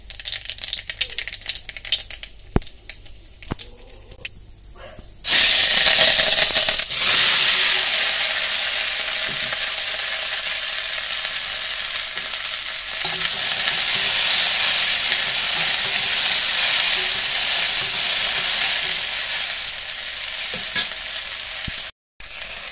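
Dried chillies, bay leaves and spices hit hot oil in a pan with a sudden loud sizzle that carries on steadily, with occasional stirring clatter and no talking.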